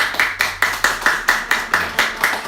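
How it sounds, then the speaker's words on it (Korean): Slow, steady clapping in an even rhythm, about four claps a second, loud and close with no talking. "생일 박수 한번 보내주세요."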